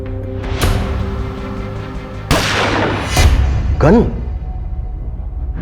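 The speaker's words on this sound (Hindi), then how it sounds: "आराम नगर के पीछे एक लड़की 2 लड़कों को गोली मारकर भागी है" Gunfire in a crime drama scene: a few sharp, loud bangs at irregular intervals over a steady background hum, with one whooshing burst near the end.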